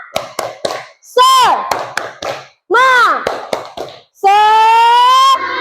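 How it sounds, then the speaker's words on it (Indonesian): Classroom 'tepuk semangat' clapping chant: bursts of sharp rhythmic hand claps alternate with children's voices shouting a sung chant together, loud and close, ending on a long held call. "Ya, tepuk semangat."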